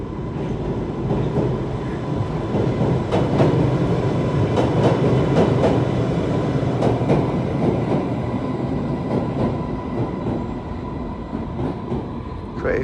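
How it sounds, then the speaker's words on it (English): On a calm evening, a train rumbles steadily along the rails: a constant, loud, close roar with faint rhythmic clicks from the wheels and no break throughout. "The train rumbles along."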